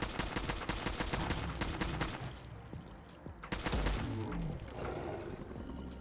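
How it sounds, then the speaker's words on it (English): Rapid sustained gunfire from a Winchester 5mm range rifle in Fallout 4, fired with its lowest damage receiver, loud and dense through most of the stretch with a brief lull and a renewed burst. "using this range rifle that I have on me now, which is chambered in 5mm with the lowest damage receiver"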